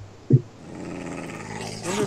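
Low dog growl from the Minecraft video game, a short burst near the start followed by a quieter rumbling tone, with faint game background underneath.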